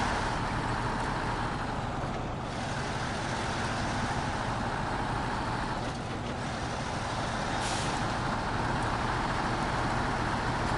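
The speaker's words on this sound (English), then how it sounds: "It's going to be chain slap on the pavement." Constant rumbling roar of a heavy truck in the game SnowRunner, its tire chains slapping the pavement in a rough rhythmic texture, with a brief hiss midway, no voices.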